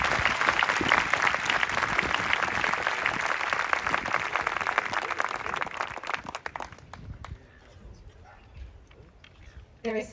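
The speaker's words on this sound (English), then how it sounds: "please give a round of applause to the Dunwich dancers" Audience applauding the Dunwich dancers at an Australia Day morning ceremony: dense, sustained clapping from a large outdoor crowd for about six seconds, then thinning to scattered claps and quiet before a brief burst near the end.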